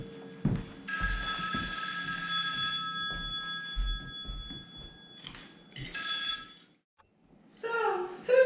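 Old-fashioned telephone bell ringing in a film scene, a bright metallic trill in repeated bursts with gaps between rings, mixed with faint room noise and brief low voice sounds.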